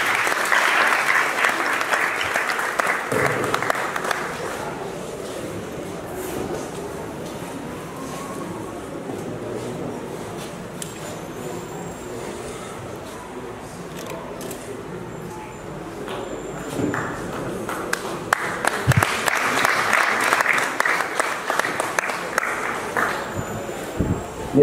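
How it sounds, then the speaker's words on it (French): Audience applause at a diploma ceremony for top baccalaureate graduates in Bargny swells in two strong bursts at the start and end, with a quieter stretch of room noise, shuffling and faint voices between them. "Vos applaudissements, s'il vous plaît."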